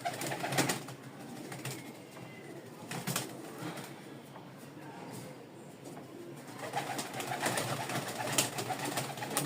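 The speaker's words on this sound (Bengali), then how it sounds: "আমি হাতবাজির কবুতরগুলো নিয়ে আসি।" Hand-flown pigeons in a home loft coo softly against a noisy background. The calls come in faint bursts, with a few louder moments near the start and end, and no one speaks.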